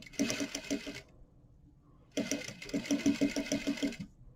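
A sewing machine stitches a thick fly-front fabric sample in two quick rattling runs, a rapid even needle clatter close by, with a pause of near silence between them.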